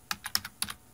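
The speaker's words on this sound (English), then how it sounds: "Now type in 301 on the keyboard" Quick taps on a computer keyboard, about five or six close, crisp keystrokes in an irregular rhythm, heard alone with no talk.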